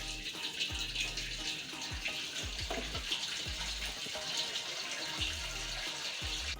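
Tap water running into a wok for boiling vegetables, a steady hissing gush of filling water heard alone at moderate level, with soft low thumps underneath.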